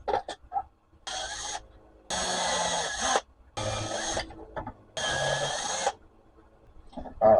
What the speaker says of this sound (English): Now time to drill some holes.